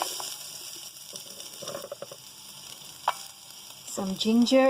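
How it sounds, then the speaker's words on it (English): Mustard and cumin seeds splutter in hot oil with a light sizzle and scattered small pops, close but fairly faint, building into a louder, busier burst at the end. "After a few seconds, these seeds will start to splutter a little."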